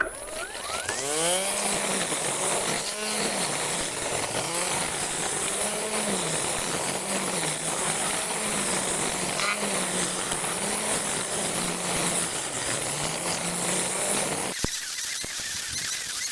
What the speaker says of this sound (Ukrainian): Вмикаємо другу швидкість.